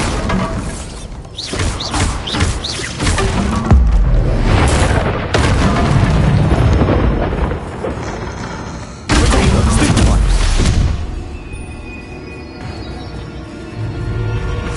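Bombarda spell blasts in the video game Hogwarts Legacy: loud booming explosions with thuds and crackling debris, one heavy burst early and another sharp impact around the middle, over a continuous dense game soundscape.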